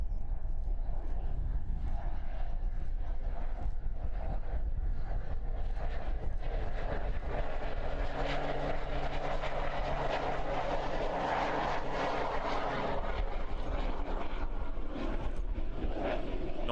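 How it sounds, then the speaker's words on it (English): A Pilatus PC-12 turboprop touching down on a runway at Christchurch Airport, New Zealand, on a windy evening: a steady engine drone and rushing noise held at a middle distance, with a faint tone that rises toward the middle. "this PC-12 does not need a whole heap of runway to touch down and or slow down either"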